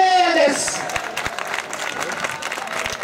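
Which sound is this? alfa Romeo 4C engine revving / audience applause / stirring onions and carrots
audience applause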